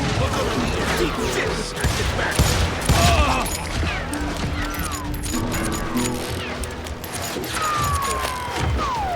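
Gunshots in the Western shooter Call of Juarez: Gunslinger, a busy run of sharp cracks and ricochet whines amid clattering, chaotic combat noise, with shouting voices mixed in throughout.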